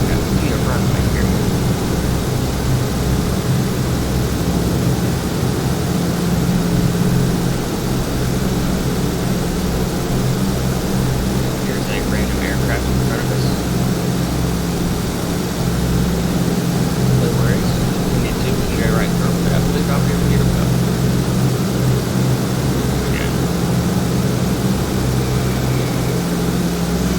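Douglas DC-6 piston engines and propellers at takeoff throttle in Microsoft Flight, a steady loud droning roar with a low rumbling hum held for the whole stretch, with faint speech in the background.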